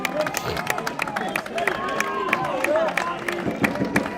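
A high school baseball crowd at a sectional quarterfinal between Millburn and Chatham cheers and applauds steadily, a busy wash of clapping and shouts with voices talking over it.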